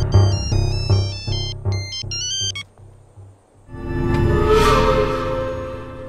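A mobile phone ringtone plays a bright, repeating melodic pattern for a few seconds, then cuts off, followed by swelling dramatic film music in the background of a Bhojpuri action movie scene.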